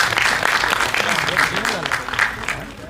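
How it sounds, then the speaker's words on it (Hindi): Applause from the audience at the Heer Express film trailer launch, a dense crowd clapping continuously while a host's voice carries over it. "जोरदार तालियां बजाओ थोड़ी और बजाते"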